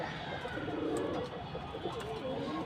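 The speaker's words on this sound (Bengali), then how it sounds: "আর এই জায়গায় আছে আজকে রেসার কবুতর।" Racing pigeons in a loft coo with low, throaty rolling calls that overlap continuously, close by and moderately loud.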